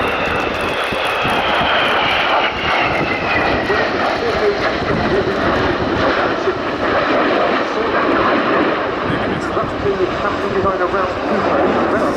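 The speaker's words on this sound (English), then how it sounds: "representing the Harrier, running in from the right with the F-35B." A Harrier jet and an F-35B fly past at an airshow, a loud, continuous jet roar holding steady throughout, with a commentator speaking over the engine noise.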